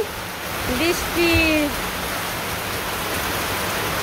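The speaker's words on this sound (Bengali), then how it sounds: "এই দেখেন সন্ধ্যাবেলায় বৃষ্টি নেমে গেছে অনেক বৃষ্টি" Heavy evening rain pours down in a steady, dense hiss that fills the whole stretch, with a brief voice-like tone rising faintly through it near the start.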